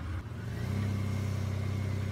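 A four-wheel-drive vehicle backs up in reverse, its engine giving a steady low droning rumble that swells slightly after a brief dip, close and alone without talk.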